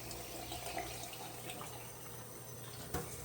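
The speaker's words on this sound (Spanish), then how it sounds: "vamos a echarle agua" Water poured from a tap onto rinsed bird seeds set to germinate in a kitchen, a steady faint splashing trickle with a brief louder splash near the end.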